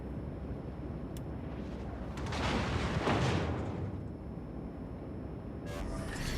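A deep rumbling boom swells and fades from a battleship's guns in World of Warships: Legends, a low roar of naval gunfire over a steady engine-like drone, no voices.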